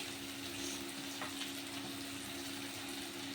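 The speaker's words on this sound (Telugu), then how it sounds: "ఇప్పుడు చక్కగా టమాటోస్ అన్నీ చక్కగా వేగాయి కదా" Tomatoes fry in a pan with a soft, continuous sizzle and faint crackling, steady and fairly quiet throughout.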